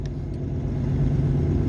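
Truck engine while driving, a steady low rumble that grows slightly louder over the short stretch, heard from inside the cab with no talk.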